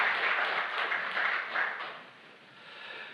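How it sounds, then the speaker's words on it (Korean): A congregation claps together during a Korean Presbyterian Sunday worship service, a bright, even patter of applause that fades toward the end. "우리 하나님께 영광의 박수 올려드리겠습니다."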